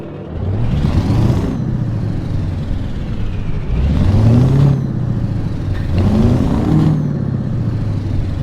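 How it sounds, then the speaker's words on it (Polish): A Scania 164L V8 truck in Euro Truck Simulator 2 revs repeatedly, three loud rising surges with deep rumbling and a hissing air-brake-like release over a steady engine drone. "Teraz trochę dodam gazu."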